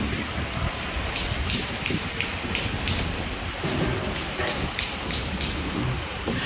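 Steady rain pours at a resort construction site, a dense continuous hiss with spattering drops on surfaces, close and fairly loud, with faint rumbles underneath and no talk.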